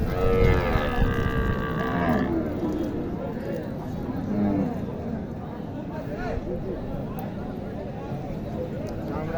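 Cattle at a busy village livestock market in Naogaon, Bangladesh, including Sahiwal cows and calves, low mooing calls mixed into a dense crowd murmur while people talk nearby throughout.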